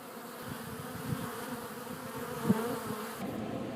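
Bees swarming at a small hive built into wall insulation, giving a continuous close, low buzzing drone with scattered louder passes from individual insects.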